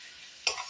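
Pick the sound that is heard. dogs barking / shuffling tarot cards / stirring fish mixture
stirring fish mixture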